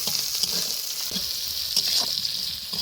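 Shrimp, whole cumin, chopped onion and green chili frying in hot oil, a loud continuous sizzle with scattered crackles and brief stirring clatter, no voices.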